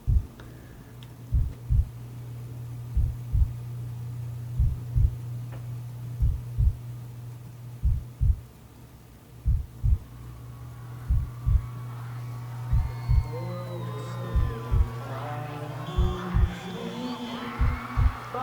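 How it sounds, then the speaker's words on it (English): A film sound-effect heartbeat thuds in steady low double beats over a droning hum, the pulse quickening toward the end as higher tonal sounds build in. "The heartbeat throughout this whole part actually speeds up. So by the end, it's just pumping."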